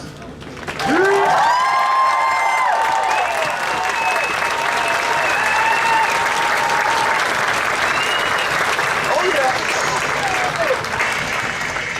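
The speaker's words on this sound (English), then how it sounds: "I want to hear a big round of applause from our seniors and for our seniors" A graduation ceremony crowd at Batavia High School, class of 2022, breaks into a big, sustained round of applause with some cheering, loud and steady for about eleven seconds, while a few voices and whistles rise through the clapping.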